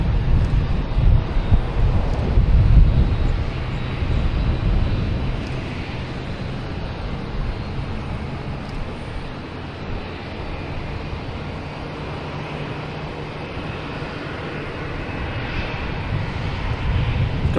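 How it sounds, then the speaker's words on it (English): A JetBlue Airbus A320 takes off, a steady broad jet roar with wind buffeting, loudest early and then holding a sustained rumble at moderate distance, with no voices. "next taking off is JetBlue heading to JFK in A320"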